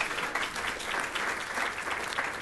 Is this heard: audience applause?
yes